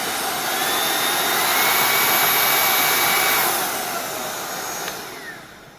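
A Proscenic P10 cordless vacuum cleaner runs with a loud, steady high-pitched whine and airy rush that holds for several seconds, then eases off slightly toward the end.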